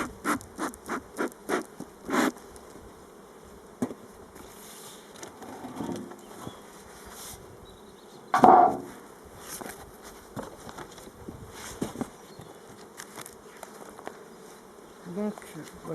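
Honeybees buzz around a hive during a spring inspection, a close, constant hum with soft scratches and taps of hive handling, and one louder brief burst partway through.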